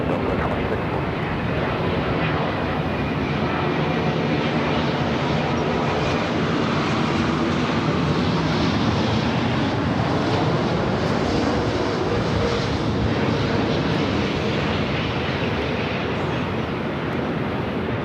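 A Delta airliner takes off from runway 24 left at LAX, a loud, sustained jet engine roar that holds strong and even throughout, with no one talking.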